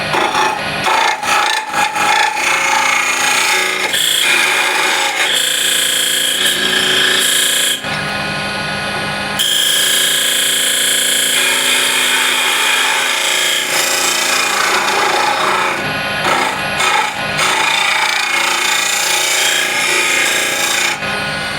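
Sandpaper rubbing a spinning walnut burl box on a wood lathe, a loud continuous rasping hiss close up, broken by a couple of short pauses as the paper is lifted and pressed again.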